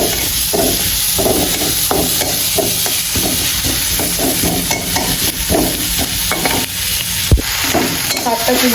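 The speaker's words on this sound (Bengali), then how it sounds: "আর এইদিকে আমার পেঁয়াজটা কিন্তু প্রায় ভাজা ভাজা হয়ে গেছে।" Onions fry loudly in a pan, a dense constant sizzle broken by rhythmic scraping strokes of a spoon stirring them, close up, with one sharp knock near the end.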